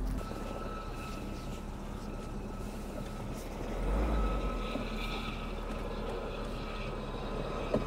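Helicopter passing over snowy ski slopes at Kopaonik, a steady broad rotor and engine drone that swells slightly midway and stays continuous throughout, with no talking.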